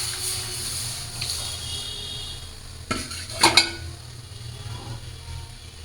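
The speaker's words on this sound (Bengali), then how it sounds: "এই যে ডাল সম্বর দিয়ে দিলাম" Dal tempering in hot oil in a pan gives a steady, soft sizzling hiss throughout, broken midway by a couple of sharp clinks of a utensil against the metal pan, with no voices.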